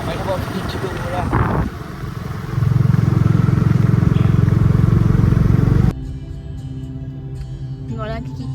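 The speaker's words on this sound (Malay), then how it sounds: "Tengok lelaki kita bawa motor." A motorcycle engine idles and revs nearby, louder for a few seconds in the middle before dropping back to a lower rumble, with background clatter.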